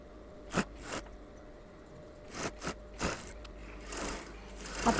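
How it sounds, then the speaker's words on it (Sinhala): A sewing machine stitches a fabric bag strap in short, quiet bursts of mechanical whirring, separated by pauses and small handling clicks. "පටියේ අනිත් පැත්තත් මහනවා"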